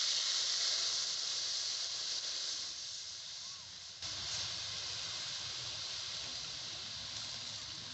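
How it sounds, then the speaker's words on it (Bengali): Soaked mustard water is poured into hot oil tempered with cumin, dried red chilies and green chilies, for a mustard pointed gourd curry. It gives a steady, even sizzling hiss, with a brief dip just before midway, then the sizzle resumes. "এখন দিয়ে দিচ্ছি ভিজিয়ে রাখা সর্ষের জলটা।"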